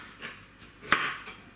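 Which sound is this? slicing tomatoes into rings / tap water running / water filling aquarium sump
slicing tomatoes into rings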